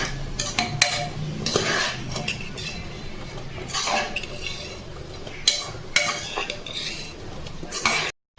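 A bamboo shoot khar with carrot is stirred in a metal pan: scraping strokes and sharp utensil clinks come in irregular bursts over a soft background sizzle, then cut off abruptly.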